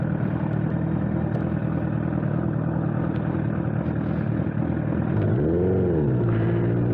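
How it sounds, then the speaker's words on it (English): A 2009 Honda CBR1000RR Fireblade's inline-four engine hums steadily at a moderate distance, then swells and falls in a smooth rev near the end. "I love the sound of these inline fours."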